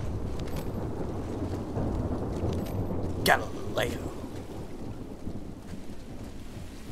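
Rolling thunder and steady rain of a thunderstorm in the video game The Last of Us Part 2, with a sharp crack midway over a constant wash of rainfall and someone talking over it.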